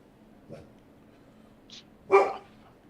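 A few faint, scattered yips lead into one louder, sharp dog bark near the end, with quiet background in between.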